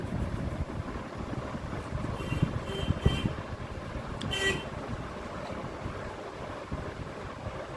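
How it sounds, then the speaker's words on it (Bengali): Onion fritters (piyaji) fry in hot oil over a low-to-medium flame, a close, continuous sizzle with scattered crackles and pops throughout. "একটা একটা করে পেঁয়াজি আমি এর মধ্যে দিয়ে দিচ্ছি।"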